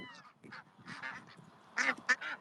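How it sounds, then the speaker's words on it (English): A cluster of ducks quack and honk in short, overlapping bursts, fairly close, with a couple of louder calls near the end. "They sound like these actual ducks that I'm standing in front of."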